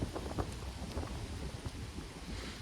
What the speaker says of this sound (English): the wind is, it's probably making it hard for y'all to hear me